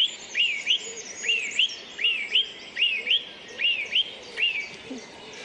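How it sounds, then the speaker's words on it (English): A robin sings its territorial song from a high perch, a clear, high warbling phrase repeated about six times at an even pace, fairly close and alone. "it's singing from a high point, so it's warning other robins not to come into this territory"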